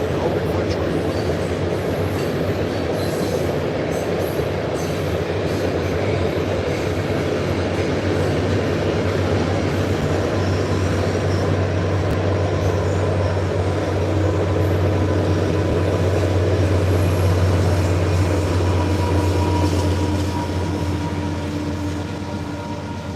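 A train rumbles past steadily for over twenty seconds beside a channel where catfish are being fished, a continuous loud rail rumble with a low drone and faint clatter, voices heard only faintly at most.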